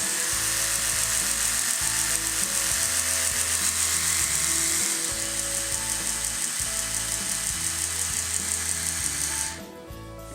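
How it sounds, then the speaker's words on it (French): An Oral-B PRO 2 2000N electric toothbrush runs close up, first in its clean mode and then in its gentle mode, giving a steady high buzzing whir with a rapid pulsing motor rattle that continues almost without a break before cutting off near the end. "Je vous fais écouter le bruit de la brosse à dents en fonction du mode que l'on a choisi"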